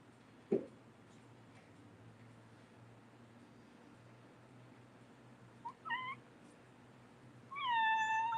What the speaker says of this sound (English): If you heard that little meow.